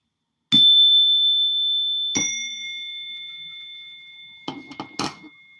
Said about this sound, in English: It's a suggestion bell, and you can associate it with words, activities